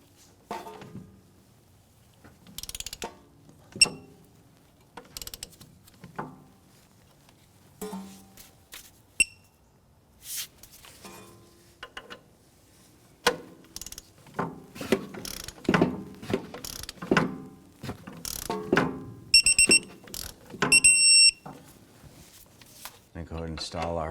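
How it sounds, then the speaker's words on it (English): A torque wrench ratchets and clicks as a clevis bolt is tightened on the front upper control arm of a 2004-2008 Acura TL. Irregular metallic clicks and clattering bursts are heard up close, growing busier toward the end. "I'm going to torque that clevis bolt to 32 foot-pounds."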